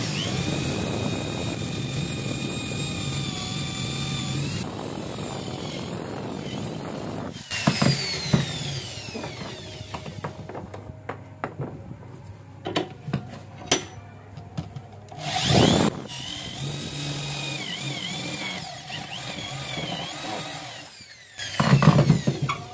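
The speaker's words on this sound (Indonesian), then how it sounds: "Kita lubangin dengan bor 10 mili" A drill boring a 10 mm hole through a piece of wood in a carpentry workshop, a steady whirring motor with bursts of louder grinding as the bit bites, pausing and restarting across the clip.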